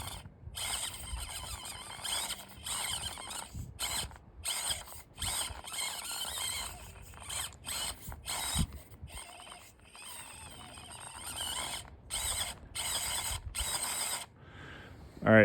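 A modified SCX24 or FCX24 RC crawler climbs over an obstacle with whirring motor bursts and clicking, grinding gear and drivetrain noises in short stop-start spurts, fairly close and quiet.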